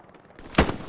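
Gunfire in the World War II shooter game Hell Let Loose, a single sharp, loud shot cracking over a low ambient background.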